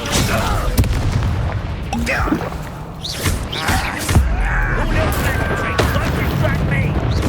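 A heavy magical slam booms out as the Descendo spell hurls an enemy down in Hogwarts Legacy, loud thuds and crashing impacts amid battle noise, with a voice talking over parts of it.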